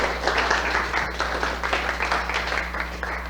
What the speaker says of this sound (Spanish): Lo recibimos con un fuertísimo aplauso.